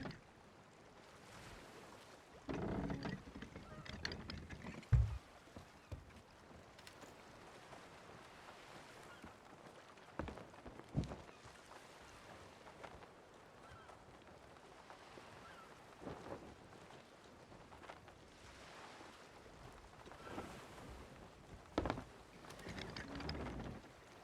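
Sailing ship moving across the open sea in Sea of Thieves, faint washing waves and wind with soft creaks and occasional swells, quiet and continuous.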